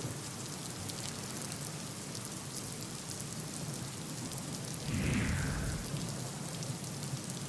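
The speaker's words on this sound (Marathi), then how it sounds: "नाशिक शहर आणि ग्रामीण भागात पावसानं जोरदार हजेरी लावली आहे" Heavy rain falls steadily over Nashik, a dense continuous hiss with a short louder gust or splash about two-thirds of the way through.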